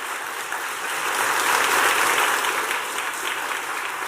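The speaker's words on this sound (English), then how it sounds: "please give her a round of applause" Steady audience applause at a teachers academy welcome event, a dense, even wash of many hands clapping that swells slightly in the middle and continues alone for the whole stretch.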